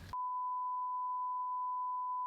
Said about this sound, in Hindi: और फिर एक बीप की आवाज़ आती है